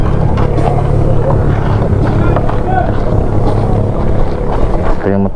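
A bangka motorboat's engine drones loud and close during a sea crossing to Hilongos, Leyte, a continuous rumble with wind buffeting and voices talking over it.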